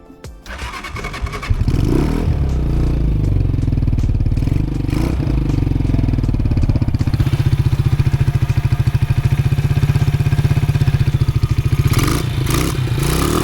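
A $500 adventure motorcycle engine cranks, catches and starts, then settles into a steady, loud close-up idle with a rapid mechanical chugging rhythm and a brief revving near the end.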